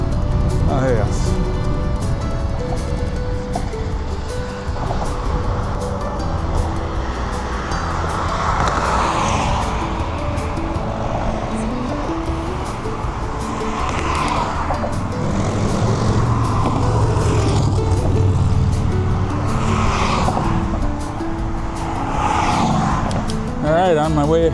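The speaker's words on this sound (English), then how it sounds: "This railing shakes and makes noise." Bridge railing on the Bong Bridge rattling and shaking as road traffic passes, under a constant loud roar of cars and trucks, with someone talking intermittently.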